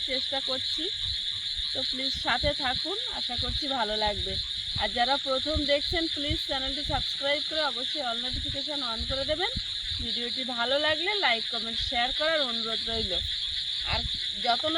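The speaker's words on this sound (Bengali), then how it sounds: "নিঝুম রাতের এই যে চারিদিককার পোকার আওয়াজ যেন গ্রামটাকে একদম মাতিয়ে রেখেছে। আর ব্যাঙের ডাক সঙ্গে।" Frogs croak and insects drone steadily through a quiet village night, a continuous high chorus with someone talking over it the whole time.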